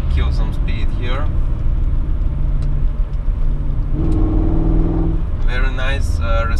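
Inside an Audi Allroad 4.2 C5 V8 while it accelerates, a deep engine rumble rises in pitch under a passenger's talking, loud and close throughout.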